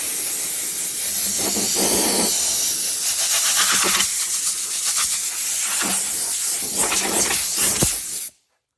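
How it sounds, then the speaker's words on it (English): Compressed air blows rubber shavings off a white-letter BFG Radial T/A tire in loud, close hissing bursts of varying length, repeating irregularly for about eight seconds before stopping abruptly. "take compressed air and you can blow off all the little rubber shavings"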